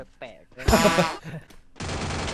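Gunfire in the video game Free Fire. A short, dense burst of shots comes right after an excited shout, then a sustained rattle follows to the end. The shots are loud and close and mix with a player's voice.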